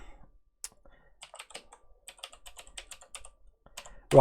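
A computer keyboard types out a web link: rapid, irregular clusters of crisp key clicks, close and fairly loud, with a brief pause midway and no voices.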